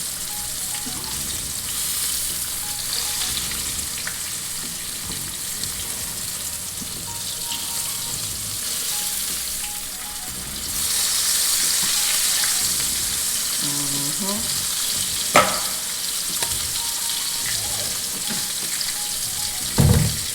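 Cube steak browning in a hot pan, a steady dense sizzle that grows louder midway, with a few clinks of the pan and no talking.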